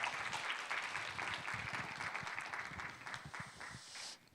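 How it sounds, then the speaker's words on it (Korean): Audience applause at a Seoul future mobility conference session after a speaker's talk, a continuous faint wash of clapping heard from a distance that fades out near the end. "다시 한번 큰 박수 부탁드리겠습니다."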